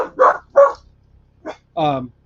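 Dogs bark indoors in a house during an Alaskan winter, giving a few loud, close barks in quick succession, then a pause and a longer, whining yelp.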